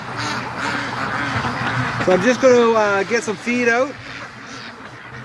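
Free-range ducks quacking in a loud cluster of calls at close range on a morning by a lake, with someone speaking over them.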